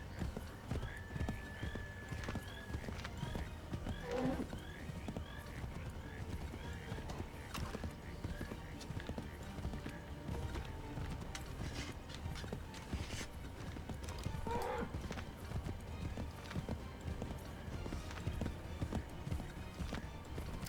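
Horse hooves clip-clop steadily in the Assassin's Creed III video game, low and continuous beneath game music, faint mechanical noises and a talking voice.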